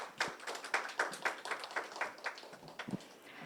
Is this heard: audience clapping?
yes